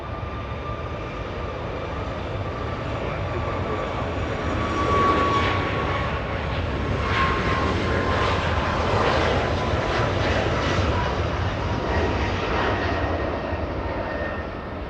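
An Air Canada Boeing 737 MAX 8 jet at LAX rumbles in a loud, continuous roar that swells gently midway and stays strong throughout, with no voices.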